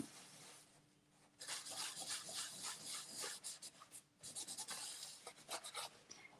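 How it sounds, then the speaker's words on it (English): Cloth buffing ink off embossed cardstock, close and soft, with steady scratchy rubbing strokes in two bursts and a short pause between them. "because we've probably got a lot of ink over the top of our embossing here, we're just going to buff that off"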